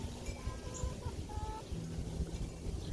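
Chickens just let out of their coop on a stormy morning give soft clucks and short calls. The clucking is fairly faint against a steady outdoor background.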